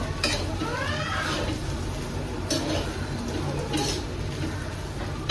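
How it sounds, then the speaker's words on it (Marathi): Egg fried rice is stirred and mixed in a hot pan, with a low, constant sizzle under repeated scraping strokes of a spatula against the pan. "पूर्ण राईस मी त्याच्यामध्ये टाकलेला आहे तो आता आपल्याला करायचं त्याच्यामध्ये मिक्स छान असं ते एकजीव करून घ्यायचं"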